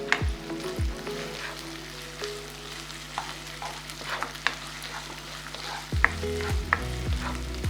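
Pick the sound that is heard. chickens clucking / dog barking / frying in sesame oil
frying in sesame oil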